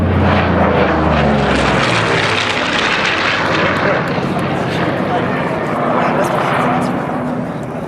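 An A-26 bomber propeller airplane roars past close by at an air show, a loud engine drone that swells and then fades as it moves away, with a voice talking over it.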